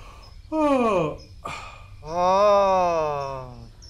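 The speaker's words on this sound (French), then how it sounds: "avec un bâillement très ample et généreux" Wide, full yawn made as a breathing exercise for public speaking, a long voiced sigh-like breath, then a brief catch and a second sustained drawn-out yawn, close and alone.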